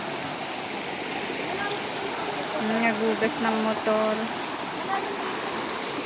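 A strong river in rainy weather rushes with a dense, steady roar, while a person speaks briefly over the continuous water noise near the middle.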